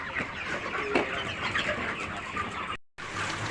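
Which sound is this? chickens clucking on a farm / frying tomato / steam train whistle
chickens clucking on a farm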